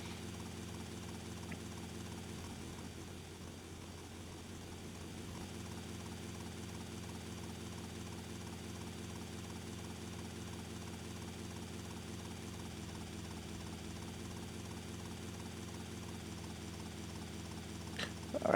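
A helicopter flies steadily in GTA Vice City, its rotor and engine drone close and continuous for the whole stretch with a slight rise at the very end; no one speaks.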